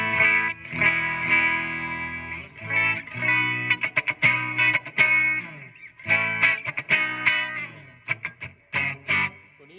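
A 1999 Fender SRV Stratocaster played straight into a Marshall MG100DFX amp's distortion, loud and close, sustained crunchy chords followed by choppy, rhythmic stabs and short muted bursts.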